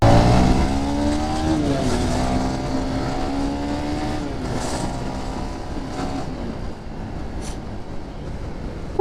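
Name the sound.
Supra GTR 150 motorcycle engine accelerating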